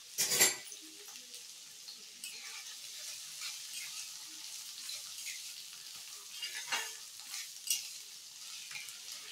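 Thinly sliced bitter gourd pieces fry in about three spoons of hot oil in a home kitchen, giving a quiet, steady sizzle with scattered clinks and scrapes of stirring and no talk.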